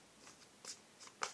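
Tarot cards are shuffled and drawn in a few quiet, brief riffling flicks, faint and close, separated by short pauses.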